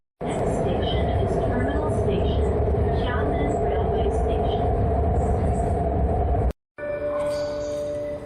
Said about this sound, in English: This is the railway station.